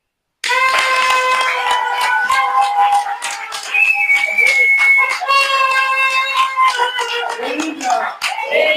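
Rhythmic clapping and applause for Tony Mwaba at a public gathering in Kananga, Kasai Central, sound loud and continuous for several seconds, mixed with strong sustained musical tones or singing voices.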